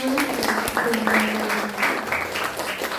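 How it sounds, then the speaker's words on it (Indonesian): Classroom applause after group performances, a steady broadband clatter of many hands clapping filling the room, with a faint voice or tone underneath. "boleh tepuk tangan untuk kita semua"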